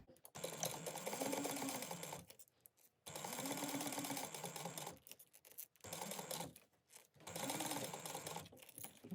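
A sewing machine stitches along one edge of a convertible sling backpack at a 1/8-inch seam, running in four steady bursts separated by brief pauses.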